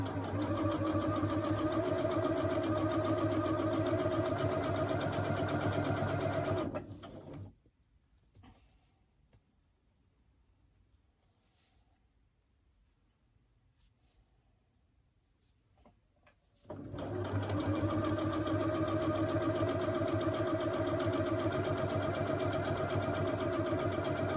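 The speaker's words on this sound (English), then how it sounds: "Just going to do standard sewing, no fancy stitches or anything." A sewing machine stitches a quilted baby blanket with a steady, loud mechanical whirr and rhythmic needle clatter, stopping for a quiet pause of several seconds before running again at the same even pace.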